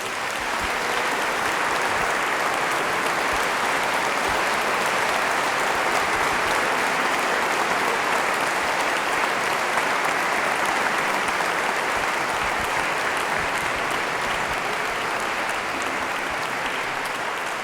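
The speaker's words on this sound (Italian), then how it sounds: "Io direi un applauso prima di tutto a tutta l'orchestra." A concert audience gives a sustained round of applause to an orchestra, dense and even throughout with no voices standing out.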